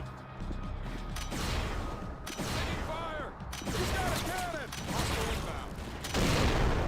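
Enemy gunfire rattles through the 2007 shooter TimeShift, a dense run of shots and impacts with some metallic whines, loud and close, with a voice talking faintly underneath.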